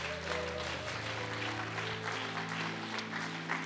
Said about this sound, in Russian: Одарите аплодисменты